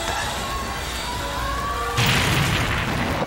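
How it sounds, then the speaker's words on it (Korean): In a dramatized scene, a bus explodes inside a tunnel with a sudden loud bang partway through, followed by a lingering roar over an otherwise tense, steady background. "그 순간 버스는 펑소리와 함께 터져버렸고 동시에 터널 안은 정전이 되어버립니다."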